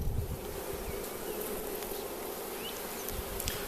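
Honey bees buzz steadily around an open beehive, a dense, continuous close-up drone with individual insects whining past.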